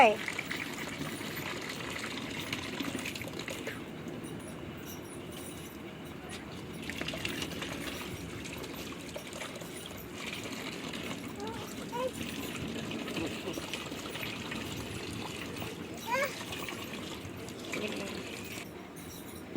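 A household tap runs steadily as a small boy bathes under it, a soft, continuous splashing and gushing kept at low level, with occasional clinks and someone talking over it.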